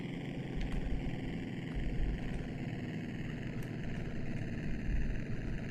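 A biplane engine droning in the Amiga video game Wings by Cinemaware, a loud continuous low rumbling hum, steady and unbroken, with no voices.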